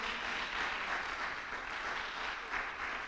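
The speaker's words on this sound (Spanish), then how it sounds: "Le damos un fuerte aplauso al Señor con todo nuestro corazón." A church congregation applauds together at an evening service, a steady, moderately distant wash of many hands clapping with no pauses.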